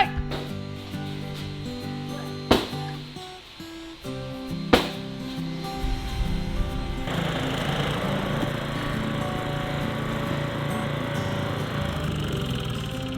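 A reel mower cuts a lawn, its steady whirring clatter starting partway through and then running continuously at moderate level. Before it begins, a couple of sharp knocks can be heard over quieter background sound.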